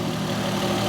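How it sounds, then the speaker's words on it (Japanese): A 20-year-old Toyota Chaser JZX100 with a 1JZ engine, recently repaired after accident damage and oil leaks, idles with a steady, even low rumble heard close up and unbroken throughout. "30分ぐらいあのままアイドリングで放置しました"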